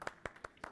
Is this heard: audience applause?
yes